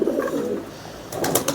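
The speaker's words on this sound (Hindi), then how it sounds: "ये दोनों कबूतर है व्यूअर्स" Pigeons coo close by in low, throaty bursts, one soft call near the start and another run of cooing toward the end.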